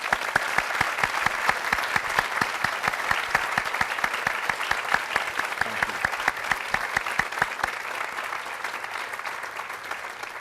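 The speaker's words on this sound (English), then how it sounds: "So let's give them all a round of applause." Audience applause at a divinity school convocation ceremony, dense and sustained clapping filling the room at an even level before thinning slightly toward the end.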